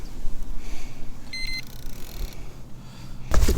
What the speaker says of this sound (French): ça nous permettra de faire biper le système s'il y a une carpe qui vient tirer